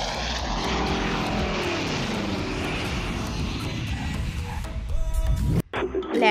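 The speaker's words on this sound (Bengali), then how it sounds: "সাবধানে ল্যান্ড করো। রানওয়ে ফাঁকা আছে।" A propeller airplane lands on a runway: a steady, loud engine drone holds throughout, then a sudden thump and brief disturbance come near the end.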